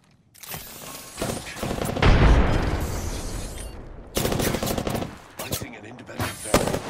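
Full-auto Sentinel rifle fire in Apex Legends, caused by a bug: loud rapid bursts of shots in two main volleys with a booming blast between them, close and dominant, with brief game sounds in the gaps.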